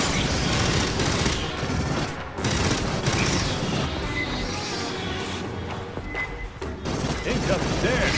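Sustained automatic gunfire in Aliens: Fireteam Elite rattles on loud and close in long bursts with brief pauses, under a dense mix of game effects and talk.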